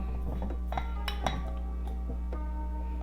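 Vanilla whisked into waffle batter in a bowl: soft wet whisk strokes and a few light metallic clinks against the bowl, close by, over a constant low electrical hum, with no talking.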